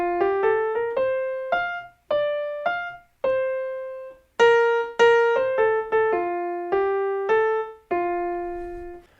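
Piano plays a major scale melody beginning on F, a run of clear single notes, some grouped in quick pairs and others held longer, with gaps between phrases, alone and close.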